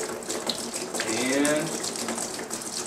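Water poured from a bottle onto a small water wheel turbine makes a steady, close splashing and trickling rush throughout, with a brief spoken word at the start.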